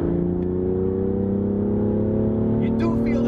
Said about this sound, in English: This thing pulls from low RPM. 3000 RPM, let's hit it.